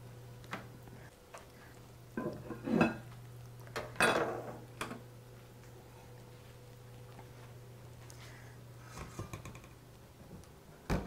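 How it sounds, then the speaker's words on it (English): Mashed potato set down on a plate for a lamb knuckle dish, heard as a few soft clinks and scrapes of utensil on crockery, close and moderately quiet over a steady low hum. "what I'm going to do is put the mash down on the plate"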